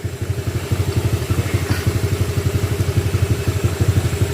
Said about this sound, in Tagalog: tahimik na tahimik yung makina